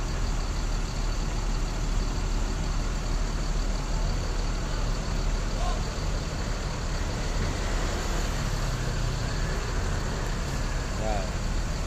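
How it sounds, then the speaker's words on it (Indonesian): An ANS Luxury intercity bus named Kian Santang pulls in at a stop in a busy setting, its engine a steady broad rumble blending with continuous traffic noise and background voices throughout. "masuk lagi tuh satu unit ANS Luxury ya, dengan gelar Kian Santang."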